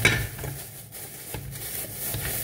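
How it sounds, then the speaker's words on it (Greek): Frozen zucchini tipped into a cooking pot in a home kitchen, with a clatter and rustle at the start, then a soft sizzle and scraping movement at close range. "Θα πάρουμε τα κολοκυθάκια μας μέσα στην κατσαρόλα"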